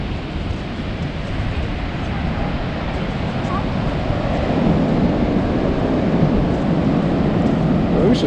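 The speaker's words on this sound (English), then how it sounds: "The ocean's way more calm than it was yesterday." Ocean waves wash on a cold, windy beach at an outgoing tide, a steady broadband roar of surf with wind buffeting the microphone, loud and continuous throughout.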